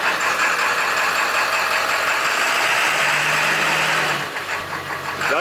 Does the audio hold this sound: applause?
no